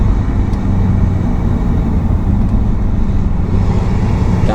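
Ford 6.7 Powerstroke diesel truck engine holding about 1,900 RPM in fourth gear, a loud, steady low drone with constant road and cabin rumble.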